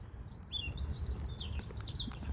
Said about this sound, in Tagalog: At ito, ang daming ibon o. Dinig nyo.